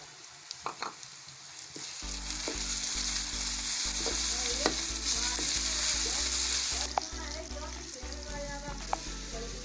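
Garlic and ginger paste hitting hot oil in a karahi pan, a loud burst of frying sizzle with stirring scrapes and clinks, steady for several seconds.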